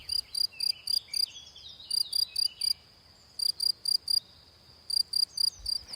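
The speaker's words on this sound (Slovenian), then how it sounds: "Upam, da se tega črička ali kobilice ne sliši bolj kot mene" A cricket or grasshopper chirps in steady clusters of sharp, high pulses, several bursts separated by short pauses, clear and fairly close against a quiet background.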